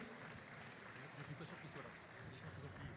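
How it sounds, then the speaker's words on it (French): An audience at a regional FIRST Tech Challenge robotics competition claps in a dense, continuous round of applause that holds at an even level throughout. "Allez, on va les applaudir très fort."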